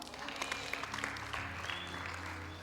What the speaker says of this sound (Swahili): Ungepigia Yesu makofi hapo